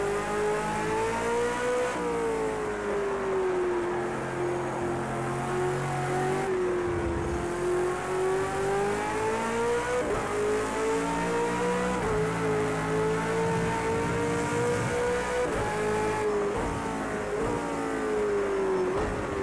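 V8 Supercar engine in Project CARS 2 at Circuit of the Americas, a steady loud racing drone rising and falling through gear changes and corners, alone without talk.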